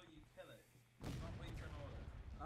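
Artillery fire in a multiplayer Civil War-era battle game between Union and CSA sides, a heavy broadband boom erupting about a second in and rolling on loudly over a faint voice.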